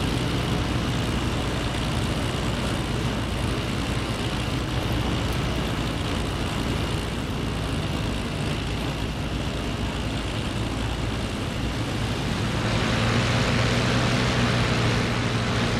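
A Me 410 twin-engine aircraft taxiing in the flight game IL-2 Great Battles, its engines a steady, loud, dense drone that holds throughout and deepens slightly toward the end.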